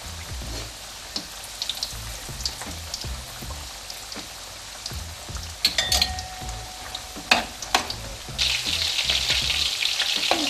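Sesame seeds fry in a pan of hot oil, giving a dense, continuous sizzle with scattered pops and crackles that grows brighter and louder near the end.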